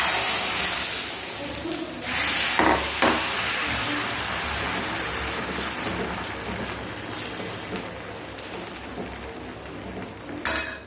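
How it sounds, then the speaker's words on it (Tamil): Dosa batter sizzles on a hot, oiled pan with a steady, bright hiss. Occasional metallic clinks of a ladle or utensil come through, close and prominent in a home kitchen. "நம்ம தோசை ஊற்ற ஆரம்பிச்சிடலாம்."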